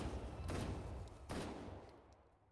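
Two loud shotgun blasts from a Fortnite-style battle game, spaced about a second apart, each with a sharp crack and a decaying tail over a steady rumbling game background, with no talking.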